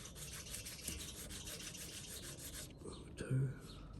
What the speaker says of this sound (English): we might just finish these edges on the 1000 grit